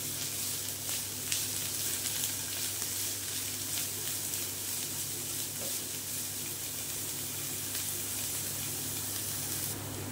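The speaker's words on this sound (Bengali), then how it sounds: "পেঁয়াজটাও সুন্দর ভাজা ভাজা করে কষে নেব" Chopped onions sizzle steadily in a pan, a constant hissing fry with faint clinks, no talking.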